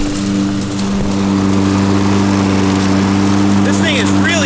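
A lawn mower running steadily at close range while collecting leaves, with a loud, constant engine hum and a rough rushing noise over it.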